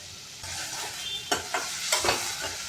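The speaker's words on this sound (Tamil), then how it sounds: "உப்பு சேர்த்து நல்லா வதக்கி எடுத்துக்கோங்க." Onions and tomatoes with salt sautéing for a masala, a steady soft sizzle broken by a few sharp spoon scrapes and stirs against the pan, close and alone.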